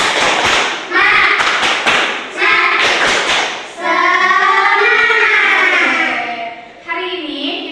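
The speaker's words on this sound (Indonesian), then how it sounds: "Coba kita tepuk semangat dulu ya." A primary school class doing the rhythmic Indonesian clapping cheer "tepuk semangat", with sharp group claps in quick bursts followed by children chanting together loudly and close.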